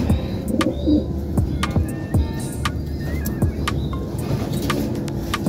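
Pigeons cooing nearby in low, repeated throaty calls, with sharp clicks and faint traffic noise in the background.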